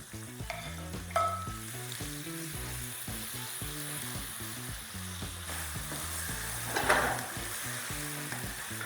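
Beef and peppers for teriyaki noodles sizzle steadily as they are stir-fried in a hot pan, with occasional scraping and tossing over a continuous frying hiss, and background music plays throughout.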